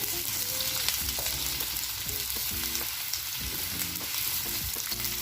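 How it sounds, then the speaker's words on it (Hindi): Onions frying in hot oil for a spiced gosht dish, a steady dense sizzle with occasional stirring clinks and scrapes running throughout, close and fairly loud with no one speaking. "देखिए ऑयल हमारा गर्म हो चुका है, ऑनियन को फ्राई करते हैं।"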